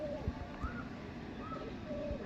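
Soft, repeated low coos from a Bandhdum pigeon at a pigeon sale, a few brief calls spread across a constant hum of ambient noise.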